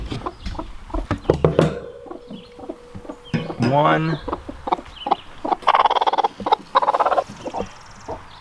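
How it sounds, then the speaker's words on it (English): Broody hens cluck and croon nearby in a coop, several birds overlapping in bursts, with a brief spoken word and some rustling. "I'm thinking the broody hens are still in here."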